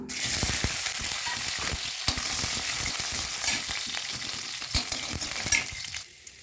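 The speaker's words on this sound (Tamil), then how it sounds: "ஆயில் காஞ்சோடனே நம்ம இஞ்சி பூண்டு அதிலே ஆட் பண்ணிக்கலாம்." Ginger and garlic fry in hot oil for an egg kulambu, giving a close, steady crackling sizzle with scraping and clinking as they are stirred in the pan, the sizzle settling near the end.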